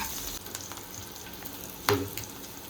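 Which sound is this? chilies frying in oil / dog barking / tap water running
chilies frying in oil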